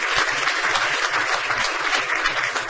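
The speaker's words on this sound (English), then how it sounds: "So give them a round of applause as well." Audience members at a town council meeting clap together in a brief, fairly close round of applause, with no speech over it.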